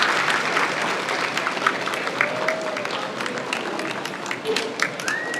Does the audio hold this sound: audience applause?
yes